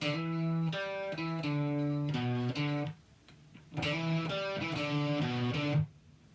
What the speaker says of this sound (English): Now with the grace note, the hammer on at the start, it would sound like this.